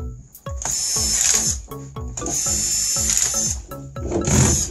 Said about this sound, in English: So I go to put back the screws